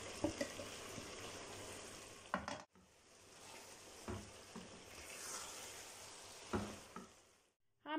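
Tomatoes go into a pan of street-cart style sausage, setting off a soft, fairly distant frying sizzle. Brief scraping stirs break it up, the hiss dips to near silence at a few points, and no one speaks.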